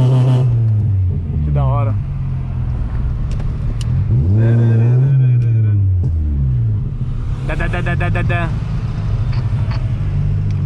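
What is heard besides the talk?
car exhaust popping while revving engine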